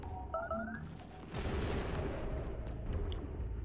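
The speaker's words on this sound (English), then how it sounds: "There's explosions in the darkness." A deep boom bursts in and becomes a sustained rumbling roar of explosions, following a few faint whistling tones, in the video game Oxygen Not Included.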